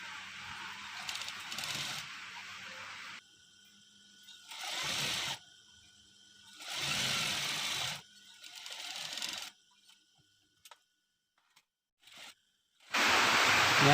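A sewing machine stitching the shoulder seam of a sweater, running in several loud whirring bursts of a few seconds each, separated by quiet pauses and small handling clicks.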